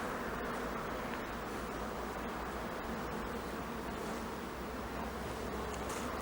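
Honeybees buzz steadily at a top bar hive while a new colony is being set up, a dense, continuous close hum with faint rustling and no talk.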